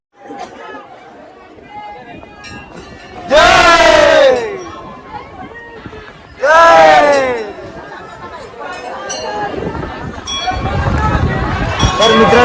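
A packed crowd at the Maa Bamleshwari temple, loud chatter and babble with two bursts of collective shouting or chanting rising over the din, and a person talking nearby.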